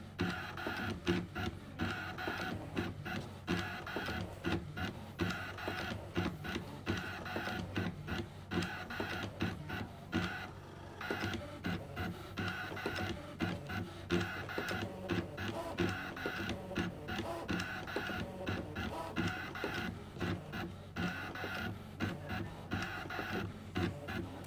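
A Brother ScanNCut machine cuts Minky fabric with a rotary blade, giving a steady mechanical whir with rapid rhythmic carriage movements and soft clicks, running continuously with no talk.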